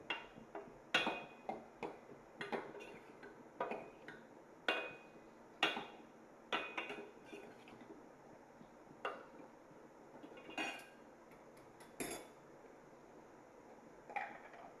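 Stirring Gangafal (pumpkin) chutney in a cooking pan on a low flame, heard as irregular sharp clinks and taps of a spoon against the pan at close range, with no talking.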